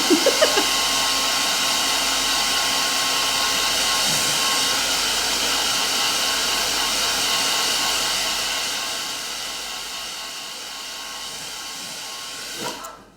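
A hair dryer blows to dry stencil paint, a loud, close, continuous whooshing hum with a steady tonal whine that holds for most of the stretch, then softens toward the end before a brief knock and cutoff.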